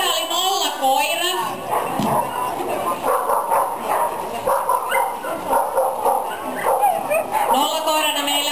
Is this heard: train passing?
no